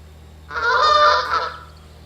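Geese in theHunter: Call of the Wild, hunting in Salzwiesen Park, let out a single close, loud honking call about a second long over a quiet low hum.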